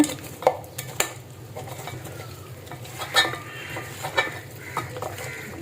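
Beef being mixed by hand with whole spices such as cardamom and mace in a metal pot, giving sharp clinks and scraping knocks at an irregular pace, close and fairly loud with no talk.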